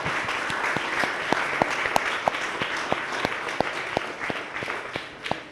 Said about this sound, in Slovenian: Naši gosti se en velik aplavz zaslužijo